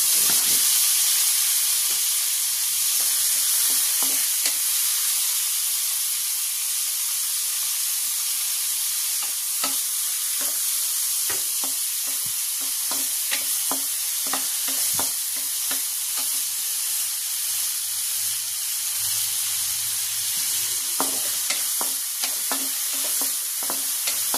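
Tomatoes stirred into a sizzling pan with kangkong for adobong kangkong, a loud continuous hissing fry broken by frequent scraping and knocking of the utensil, close-up and without talking.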